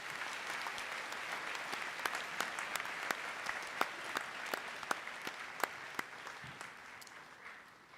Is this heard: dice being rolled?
no